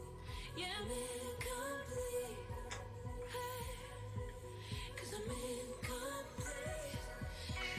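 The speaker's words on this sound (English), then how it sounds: "there's a song that's playing in the background right now." Music plays quietly in the background with a steady beat and melodic vocals, fairly constant in level throughout.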